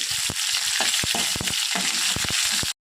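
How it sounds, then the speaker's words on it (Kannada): Red chillies, curry leaves and garlic crackle and spit in hot oil for a green moong dal tadka, a loud dense sizzle with rapid popping bursts that cuts off abruptly. "ಕೆಂಪು ಮೆಣಸು, ಕರಿಬೇವು, ಸ್ವಲ್ಪ ಫ್ರೈ ಆಗಲಿ ಬೆಳ್ಳುಳ್ಳಿ."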